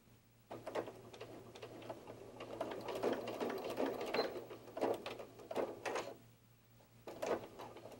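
A sewing machine stitches around a fabric bear softie in short bursts of rapid mechanical whirring separated by brief pauses, close up and fairly quiet with a faint steady hum beneath.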